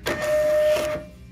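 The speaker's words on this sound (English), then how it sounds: "Once selecting print, a label is created instantly." A Metrel MetTag Pro label printer prints an appliance test label in a single short, close whirring burst lasting about a second, with no speech.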